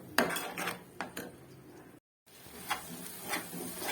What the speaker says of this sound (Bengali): ততক্ষণ আমি এটাকে কষাতে থাকবো